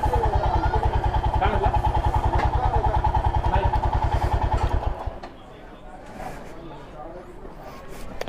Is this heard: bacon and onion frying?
no